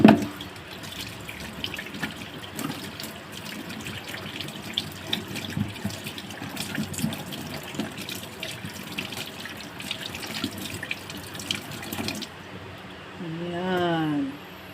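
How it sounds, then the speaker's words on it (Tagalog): Tap water runs steadily into a cooking pot for about twelve seconds, a continuous close splashing wash that then cuts off. A brief voice follows near the end. "So, lalagyan ko lang siya ng may tubig."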